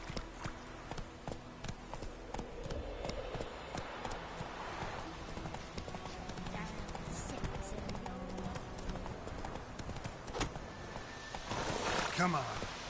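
Hooves of Roach, the horse in The Witcher 3: Wild Hunt on PS5, clip-clop steadily at a walking pace, mixed with busy in-game ambience and occasional voices.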